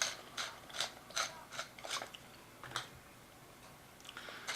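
A pepper mill grinding pepper into Alabama white sauce, a string of short dry ratcheting cranks in an uneven rhythm, close and quiet, with no talking.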